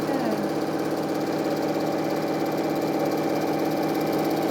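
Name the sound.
sewing machine stitching quilt triangle squares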